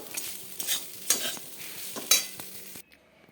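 Chira poha (flattened rice) is stirred in a pan, giving several close scraping strokes with a spoon and a light sizzle underneath, then the sound stops abruptly.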